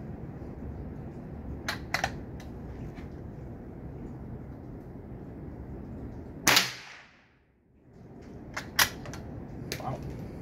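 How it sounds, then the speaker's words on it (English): A Russian .22 rifle firing regular 36 grain ammunition gives one sharp, loud crack outdoors that fades quickly, with a few small mechanical clicks before and after it. "We're shooting just some regular 36 grain ammo."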